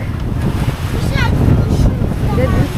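Big waves surge and wash around a boat at sea, a continuous rushing roar with strong wind buffeting the microphone, loud and close, with faint voices in the background.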